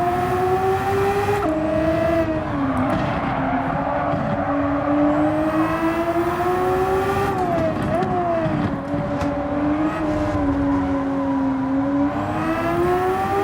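Nissan NISMO R34 GT-R Z-tune '05 in Gran Turismo 7, its turbocharged engine droning loud and steady with rising and falling revs through gear changes, close and continuous with no talk.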